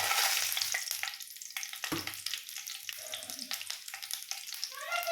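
Dried red chillies fry in hot oil in a pan for a sesame chutney, a steady close sizzle with bursts of crackling and occasional stirring scrapes.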